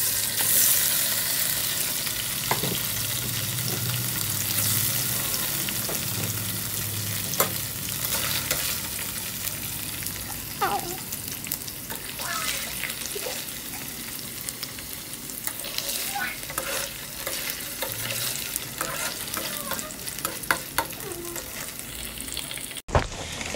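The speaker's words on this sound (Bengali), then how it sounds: "তো তেলটা গরম হয়ে গেছে, এবার আমরা পনিরটা দিয়ে দেবো।" Small paneer cubes frying in hot oil, a long steady sizzle close by, with repeated scraping and clinking as the pieces are stirred and turned. No one talks.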